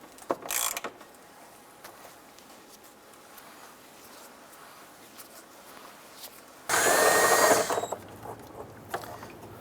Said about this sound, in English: Using our 3/8 socket, we're going to go ahead and loosen and remove this bolt holding our expansion tank.